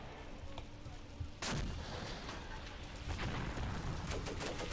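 An artillery gun fires in the Graviteam Tactics: Mius Front war game, with one sharp, heavy boom that gives way to a rumbling, sustained roar. Steady background battlefield noise runs throughout, with no talking.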